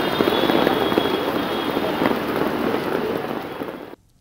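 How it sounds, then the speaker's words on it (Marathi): Heavy rain in Mumbai and Thane pours down in a dense steady hiss of drops on surfaces, loud and unbroken for a few seconds before cutting off abruptly. "मुंबई, ठाणे, नवी मुंबईमध्ये सकाळपासून जोरदार पाऊस सुरू आहे"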